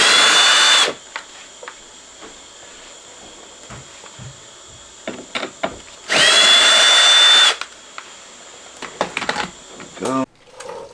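A power drill backs Phillips head screws out of a Peg Perego John Deere Gator ride-on toy, with two loud, steady whirring bursts separated by quieter handling clicks and someone talking.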